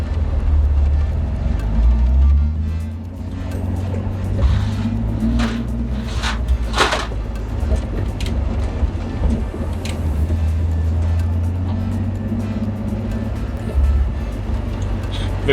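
A BMW E46 engine hums and revs steadily as the car drives along a private road, with occasional rattles and bumps from the road.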